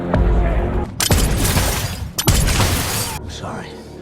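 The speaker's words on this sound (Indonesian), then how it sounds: "Salim tewas terkena tembakan dari Workman, meninggalkan anaknya sendirian." Gunfire crackles in an action film scene, loud bursts of shots separated by brief gaps, mixed with blasts and a narrator's voice speaking over the action.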